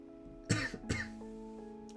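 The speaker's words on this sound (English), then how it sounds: "I apologize for my cough." A sharp cough from a person, repeated twice in quick succession, fairly close and loud against a quiet room with faint background hum.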